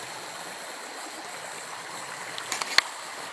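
A wild river crossing gives a steady, soft rush of flowing stream water, with a few brief clicks and splashes near the end.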